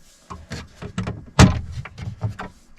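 Kitchen galley cabinet doors in a Sprinter van are handled, producing a string of light clicks and knocks with one firmer thump in the middle, close and moderately loud.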